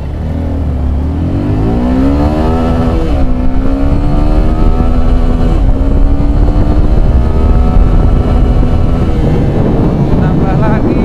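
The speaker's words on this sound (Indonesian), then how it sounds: "Lebih ke tadi barusan akselerasi, dan saya sengaja pentokin di RPM-nya ya, limiternya." Suzuki Gixxer SF 250 motorcycle revving hard through an acceleration run, its engine note climbing steadily and holding near the rev limiter, loud and close with wind buffeting the microphone.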